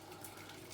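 Hot water from a kettle pours in a kitchen, a continuous faint splashing trickle that lasts under a second with nobody speaking.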